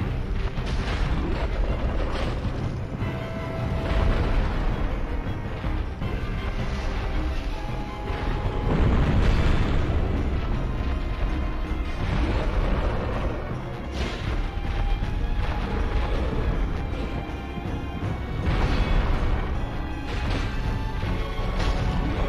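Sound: boss explosions in video game Dark Souls Remastered, Demon Firesage

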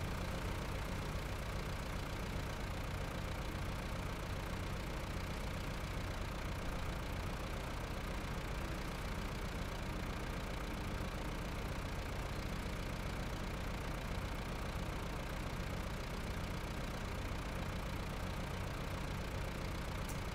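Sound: truck engines idling in the video game SnowRunner

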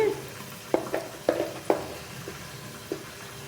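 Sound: eggplants frying in covered pan

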